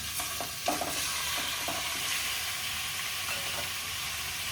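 Washed chicken sizzling in oil in a wide pan, a steady close frying hiss with a few soft stirring scrapes near the start.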